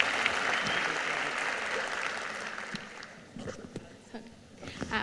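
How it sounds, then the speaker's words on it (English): An audience at a talk giving a round of applause to the first questioner, a burst of clapping that thins into scattered claps as voices begin talking over it. "Round of applause for the first question guy."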